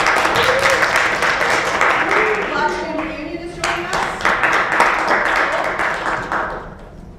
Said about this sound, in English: How about those who are young scholars? Clap.